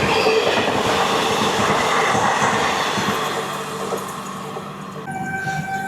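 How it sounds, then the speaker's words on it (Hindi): The Dibrugarh Rajdhani express overtakes the Magadh Express, heard from a moving train as a loud, steady roar of wheels and rail clatter that eases off toward the end. "हावड़ा राजधानी के बाद अब आ रही है डिब्रूगढ़ राजधानी ओवरटेक करने के लिए मगध एक्सप्रेस को।"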